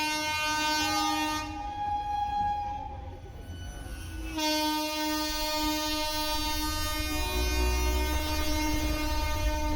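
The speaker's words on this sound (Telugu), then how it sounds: "నార్మల్గా ట్రైన్ అనుకున్నాం కానీ ఓన్లీ ట్రైన్ ఇంజన్ అయితే పోయింది." Lone train engine with no carriages rolling past during a Ganesh festival procession in Khairathabad, a loud sustained horn blast with strong steady tones, a brief dip midway, then the horn resumes and continues over rumbling wheels and crowd noise.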